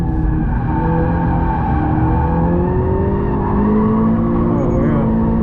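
A Subaru BRZ slides around the Pheasant Wood track, its engine droning loudly and steadily with shifting pitch as it holds a long drift and the tires squeal, heard close and continuous throughout.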